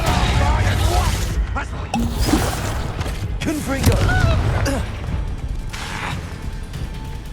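Confringo blasting spell explosions in the Hogwarts Legacy video game, booming bursts and crashing impacts in a dense, continuous battle mix, with voices shouting over the fighting.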